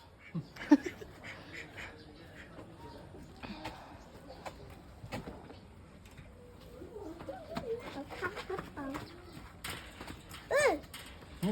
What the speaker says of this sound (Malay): Ni burung yang nari tu.